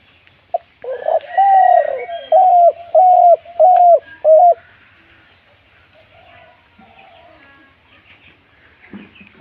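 A pet pigeon coos close by in a run of five or six loud, even, rising calls. Quiet room noise and a faint low sound follow.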